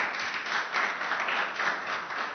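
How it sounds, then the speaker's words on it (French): A hall audience applauds a former student of Lycée Malick Sy during a debate event, a dense, steady burst of clapping from many people with slight swells, no voices on top. "Et je vous demande de l'applaudir très fort,"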